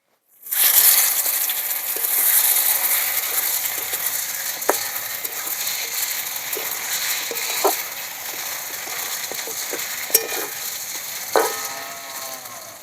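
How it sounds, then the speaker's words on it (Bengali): Climbing perch fish frying in hot oil in a wok, a steady bright sizzle throughout with a few sharp pops and spatula clicks. "এবার এগুলো ভেজে নেব।"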